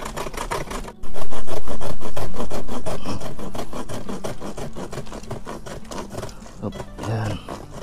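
Rapid back-and-forth rasping of a dull hand saw biting through a calamansi branch, loud and close, with a brief pause near the start.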